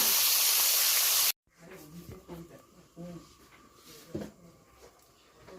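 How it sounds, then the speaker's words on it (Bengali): Pieces of cut fish head fry in hot oil in a wok, a loud, steady sizzling hiss that cuts off abruptly after about a second, leaving faint kitchen clatter and quieter background sounds. "এই যে এবার এটা সেমভাবে ভেজে নেব"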